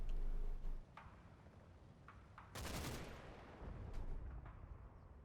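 Artillery shells exploding in the World War II game Combat Mission: Battle for Normandy, faint distant ticks and pops followed by one heavy broadband blast and a lingering rumble.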